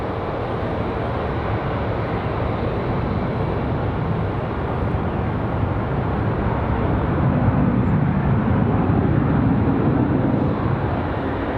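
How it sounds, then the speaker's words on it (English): An American Airlines Boeing 737-8 arriving from Miami at Raleigh-Durham International touches down, a steady, loud broadband roar of jet engines and rushing air that holds for the whole stretch and swells slightly toward the end. "Our arrival from Miami, about to touch down the 737-8"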